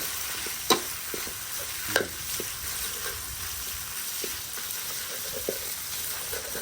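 Field rat stir-fried with bitter neem flowers in a pan, a soft steady sizzle with a few sharp scrapes and clacks of the spatula, close and alone without talk.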